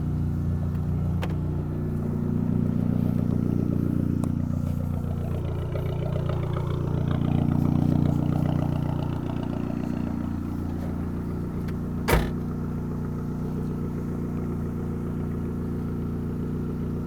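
A slammed Alfa Romeo Spider drives a few city blocks with a steady mid-pitched engine hum that rises and falls gently as it moves, close to the car and without talk, broken by one sharp click near the end.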